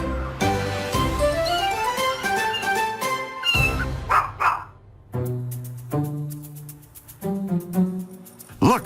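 Kittens meowing in a kitchen, several high, harmonic mewls overlapping in quick succession, close and fairly loud, with short gaps between bursts of cries and no talking.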